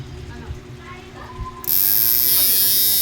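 A homemade power inverter switches on under a 4,000-watt load, and a loud, steady high-pitched electrical whine cuts in abruptly midway, following quieter hum and someone talking.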